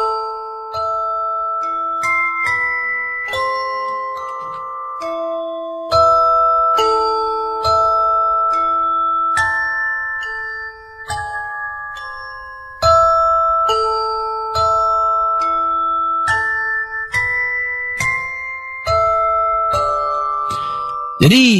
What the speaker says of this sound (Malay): dia akan ada bunyi macam musical box.